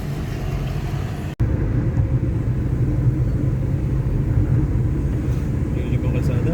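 Steady road traffic rumble with motorcycles, buses and jeepneys passing on a Philippine road, a continuous loud drone with a brief dropout, while a voice talks over it.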